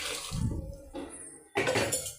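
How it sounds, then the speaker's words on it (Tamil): Water poured into a ground pepper mix for rasam in a home kitchen, a short splashing pour followed by a brief gurgling and a second louder burst of pouring, close by, no talk. "கொஞ்சம் தண்ணி ஊற்றிக்கோங்க"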